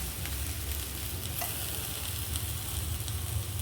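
Amaranth and ponnaganti leaves with lentils sizzle steadily in a pan, a dense, continuous frying crackle with faint stirring and no voices.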